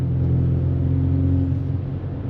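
A 2025 Ford Maverick fitted with a Thermal R&D exhaust accelerates, producing a steady low growling drone with a faint higher hum, heard continuously from inside or close to the truck.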